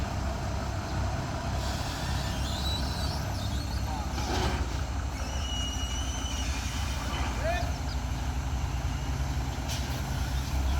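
A Colt diesel truck idles before towing another diesel truck, its engine a low, constant rumble with faint bumps and clanks over it and no clear revving.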